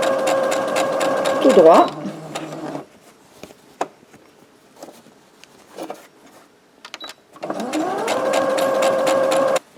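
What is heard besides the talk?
sewing machine stitching fabric for a lunch bag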